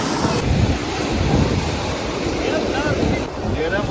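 Sea waves rolling in with strong wind near Murudeshwar, a constant heavy roar with buffeting wind on the mic and the faint sound of people in the background.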